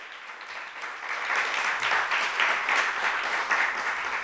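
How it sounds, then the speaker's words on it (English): Applause from the audience at a Compassion in Care gathering in Cashel, a steady broadband patter of many hands that swells after the first second and holds at moderate loudness. "very solid round of applause"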